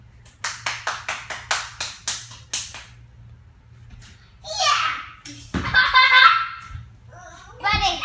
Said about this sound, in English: Yay! Clap, buddy.